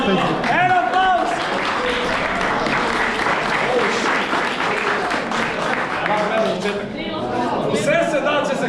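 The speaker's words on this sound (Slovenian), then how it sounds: "En aplavz!" A crowd at a boxing event organised by Pero Martić applauds loudly and continuously, with cheering and shouted voices mixed into the dense clapping.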